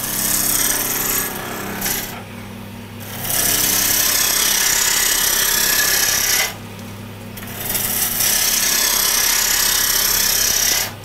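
Wood being turned on a lathe to shape a French rolling pin, a loud steady broadband grinding and rasping of the tool against the spinning blank, with two short pauses where the cutting drops away before resuming.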